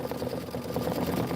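An embroidery machine stitches out a design in a steady, continuous whir with fast, even needle pulses, close and moderately loud with no talk.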